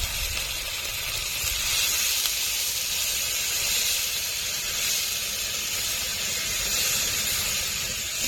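Water poured into a frying paste of ginger, garlic, ground cumin and dried red chilli for a fish curry gives a loud, continuous hiss and sizzle that holds steady throughout with no talking.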